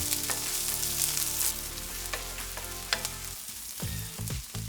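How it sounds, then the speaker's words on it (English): Chopped onion sears in organic extra virgin olive oil in a pan, a loud close hiss of frying with crackles and a few scraping stirs, fading a little toward the end. "Now add your chopped onion. Cook for about a minute to get the desired sear."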